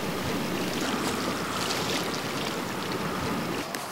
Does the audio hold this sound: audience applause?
no